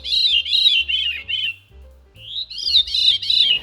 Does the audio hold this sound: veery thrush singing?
yes